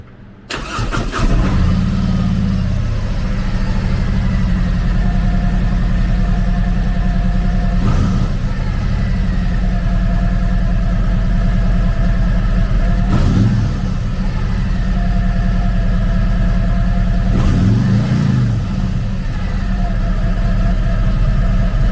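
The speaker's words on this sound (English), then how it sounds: "Powered by a 114 cubic inch V-twin motor, the Tri-Glide puts 100 horsepower and 121 foot-pounds of torque through a 6-speed transmission." A 2022 Harley-Davidson Tri Glide Ultra Classic trike with a 114 cubic inch V-twin runs steadily and loudly throughout, a deep rumbling idle with a few brief throttle blips at intervals, no talking.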